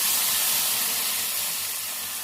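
A tempering of green chili and curry leaves poured into a pot of tamarind curry, with a loud, even hiss of sizzling that runs steadily and barely eases off.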